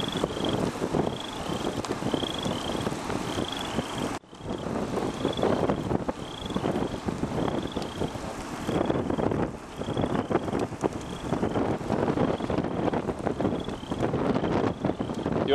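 Strong wind roars and buffets the microphone continuously during a South Dakota tornado outbreak, loud and gusty throughout, with a brief dropout partway through.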